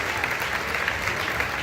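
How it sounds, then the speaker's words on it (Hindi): Steady applause from a seated comedy-show audience, dense and continuous throughout, with a faint murmur of the crowd beneath the clapping. "पूरा सदन मेरी दुआ पर ज्यादा ताली उठाना"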